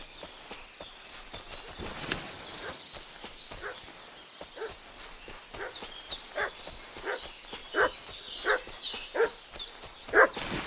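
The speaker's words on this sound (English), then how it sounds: "What's that dog making such a fuss about?" A dog in Kingdom Come: Deliverance 2 gives repeated sharp barks that grow louder and more frequent toward the end, mixed with soft hoof clops and footsteps in a quiet outdoor setting.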